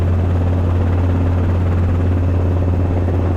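A Robinson R22 helicopter drones loud and close near an airport apron, its engine and rotor rumble constant and unchanging throughout.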